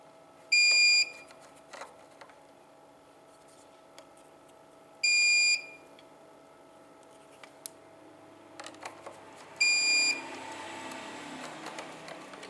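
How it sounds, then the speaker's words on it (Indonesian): An inverter alarm sounds before mains power is connected: three loud, shrill electronic beeps, each about half a second long and spaced several seconds apart, with faint handling clatter and quiet rustling in between. "Nanti kalau ketika sudah masuk PLN-nya, alarmnya akan berhenti berbunyi."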